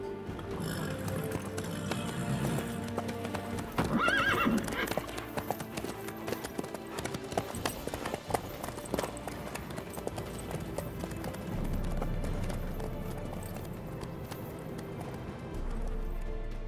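A horse's hooves clip-clop in a steady rhythmic trot in The Witcher 3, the hoofbeats continuing at moderate volume beneath faint background sound.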